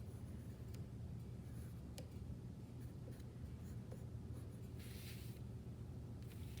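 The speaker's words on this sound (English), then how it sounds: "I am going to just draw a few flowers down here to fill up some of this space that I have" Pencil sketching flowers on paper gives a steady, quiet scratching with faint strokes throughout over a low hum, with no speech.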